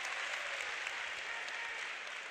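A home crowd applauds steadily at a college wrestling dual meet, Iowa at Purdue. The even clapping fills the arena for the whole moment without any words.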